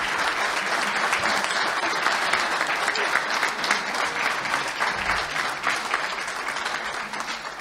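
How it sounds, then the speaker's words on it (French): Loud, lively audience applause greets guests at the opening of a municipal sports conference, many hands clapping densely for several seconds and easing off toward the end, with faint voices mixed in. "Je vais vous demander d'applaudir toutes ces personnalités qui nous rejoignent pour cette journée."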